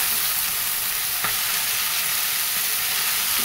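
Vegetables being stirred as they sauté in a hot pan: a steady, close sizzle and hiss of frying runs throughout, with one brief scrape of the spoon partway through.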